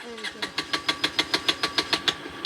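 A motorcycle engine starting, its regular firing pulses speeding up into a steady rhythmic chug, close and fairly loud.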